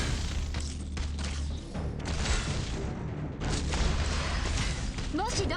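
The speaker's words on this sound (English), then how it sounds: "Now I'm waiting for this next explosion." Explosions boom in the mobile strategy game Arknights during an Originium Dust infiltration battle, heavy thuds and rumbling blasts layered over constant game sound effects, ending with a brief higher sweeping tone.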